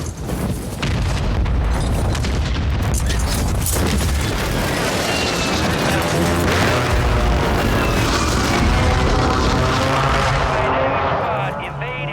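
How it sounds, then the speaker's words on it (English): Enemy precision airstrike in a video game: loud, dense booms and rolling rumbles with jet-like roar, continuous throughout and easing off near the end, with game voice chatter mixed in. "Enemy precision airstrike."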